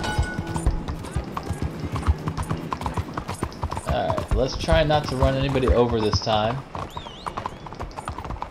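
Horse hooves clip-clop in a rapid, steady rhythm while riding in Red Dead Redemption, with a horse whinnying midway and people talking over the galloping.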